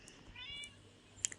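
A video game cat gives a soft, brief meow, faint and alone against quiet background sound.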